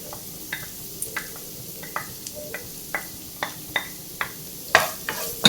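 Chopped onion sautéing with prawns in a pan, a soft background sizzle broken by regular light taps and scrapes of a spatula, ending in a few louder clattering strokes.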